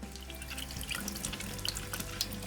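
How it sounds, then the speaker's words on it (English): Running tap water splashes steadily into a sink as an apple is washed under the faucet, a soft continuous rush with small spatters, quiet and close. "Wait a second, we have to also wash the apple first."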